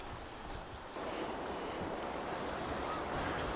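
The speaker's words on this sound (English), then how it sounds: "tidal pools and powerful waves create dramatic scenery" Ocean waves crash and surge against the rocky coastline at Peggy's Cove, a loud, continuous roar of surf that swells partway through, with wind buffeting the microphone.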